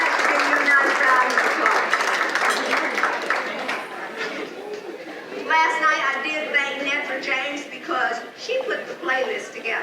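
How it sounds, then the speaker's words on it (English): At a 2018 women's conference, an audience gives a brisk round of applause that fades after a few seconds, and a speaker's voice then carries on over scattered leftover claps. "Give you a nice round of applause"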